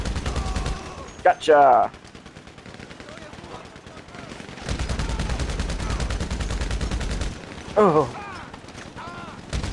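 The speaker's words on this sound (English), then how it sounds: "The bullpup assault rifle the bullpup rifle Mark II actually has decent range." Bursts of bullpup rifle Mark II gunfire in a GTA Online match, steady rapid shots running through most of the stretch with brief pauses, while players talk over the action.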